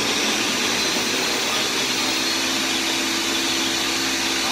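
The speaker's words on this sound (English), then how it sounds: "Okay, gonna start the blending process." Countertop blender running continuously on lemon ginger tea with the lid on, a loud, steady broadband whir with a faint constant motor hum underneath, sustained throughout with no talk.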